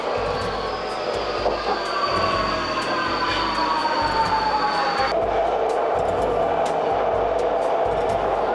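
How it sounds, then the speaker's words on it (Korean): Riding a Budapest metro subway train under the river: a steady, loud rumble of the carriage with wheels squealing against the rails and faint rhythmic clicks, with no one speaking. "지하철 타고 건너서 이제 여기 강 건너"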